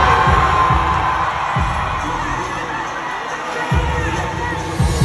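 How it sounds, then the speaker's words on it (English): An audience at a New York Fashion Week runway show cheers and screams wildly, a loud continuous crowd roar with shouting, layered over a thumping bass beat. "The audience literally goes crazy."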